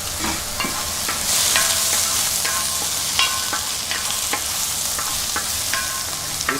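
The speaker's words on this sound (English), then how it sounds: "the coriander leaves, the mint leaves, just gently mix it with the potatoes into that" Coriander and mint leaves are gently mixed into potatoes in a hot pan for hara bhara kebab, with a soft background sizzle and repeated light clicks and scrapes of the spoon against the pan.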